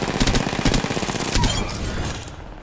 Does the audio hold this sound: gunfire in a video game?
yes